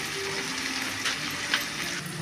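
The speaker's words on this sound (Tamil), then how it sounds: "சிக்கன் ஃப்ரை பண்ணிகிட்ருக்கோம்." Chicken fries in a pan with a dense, continuous sizzle close by, and a couple of faint stirring scrapes rise above it.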